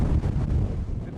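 Strong, cold wind buffeting the microphone outdoors, a loud, low, gusty rumble with uneven thumps across the brief clip.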